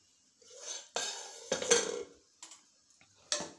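A spoon stirs and scrapes thick mutton curry masala in a metal pressure cooker pot, with several close clanking, scraping strokes separated by short pauses.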